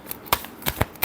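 Tarot cards being shuffled by hand: a quick run of several crisp riffling bursts in about a second, close and fairly quiet, with no voices.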